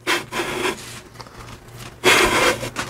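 Two Flathead 80 engine cases being lapped together with oil, a close, loud abrasive rubbing that strokes back and forth in a few pulses with a quieter gap between them.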